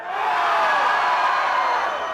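A festival crowd screams and cheers loudly on cue at a live music show, a dense, sustained roar of voices with no break.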